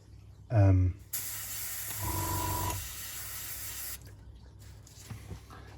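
A spray can of olive drab paint hisses onto a metal jerry can in a steady, broadband burst for about three seconds, preceded by a brief squeaky rattle and followed by quiet room noise.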